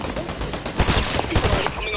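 Gunfire in the video game Fortnite during a boss fight: rapid bursts of shots crackling over dense game noise, loud and close, with no voices.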